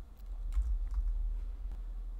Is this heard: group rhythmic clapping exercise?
no